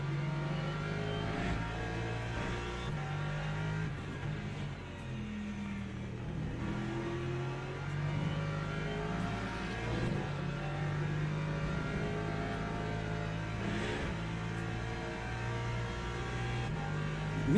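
A Ferrari race car in Le Mans Ultimate at Spa, its engine droning and revving steadily throughout, with other cars' engine tones layered beneath in a dense, continuous racing soundscape.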